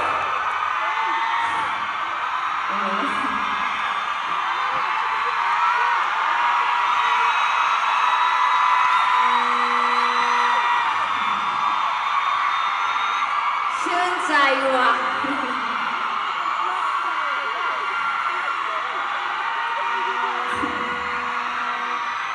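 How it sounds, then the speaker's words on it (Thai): A large concert crowd roars with sustained screaming and cheering, a dense wall of noise with whoops rising above it throughout. "ขอบคุณสำหรับเสียงปรบมือแล้วก็เสียงกรี๊ด"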